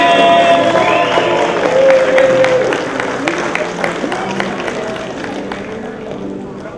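A crowd at an 80th birthday party applauds and cheers as the guest of honor comes on stage, a steady wash of clapping and voices under a speaking voice, slowly fading.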